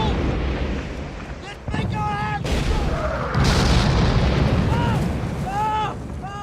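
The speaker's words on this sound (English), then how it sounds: "within seconds, Vietcong mortars began targeting them" Vietcong mortar rounds go off in a loud barrage of deep booms and bursts, with several hits in a few seconds over continuous rumbling battle noise and high whistling tones.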